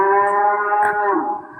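A single cow moos close by, a loud, steady, drawn-out call lasting over a second and tapering off at the end, with faint background noise underneath.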